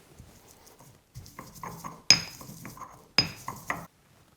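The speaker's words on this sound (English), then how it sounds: "I'm going to mash this up into a paste in my mortar and pestle" A mortar and pestle pounds and grinds minced garlic into a paste: a close run of dull knocks and gritty scrapes, broken by two sharper stone clinks, with no talking.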